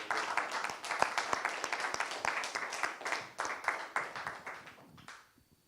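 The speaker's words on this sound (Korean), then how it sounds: "오늘 예배를 허락하신 우리 주님께 감사와 찬양과 영광의 박수 올려드리겠습니다." A church congregation applauds during a Sunday morning worship service, many hands clapping together in a dense, steady burst that fades out quickly at the end.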